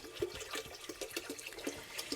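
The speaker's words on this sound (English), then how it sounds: "I'm just going to fill this up with water" Tap water poured from a jug into a container, splashing and gurgling in short uneven spurts, close and fairly quiet.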